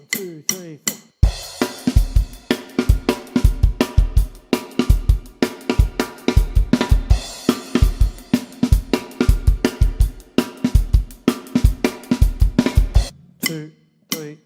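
A full drum kit plays the third line of the verse from a song, with fast, punchy kick and snare hits and busy cymbals in a steady driving rhythm, loud and close, with a few separate hits at the start and end.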